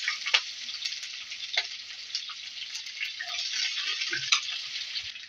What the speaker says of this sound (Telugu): దాన్ని ఇట్లా ఎర్రగా అయ్యేంత వరకు వేయించుకున్నాము.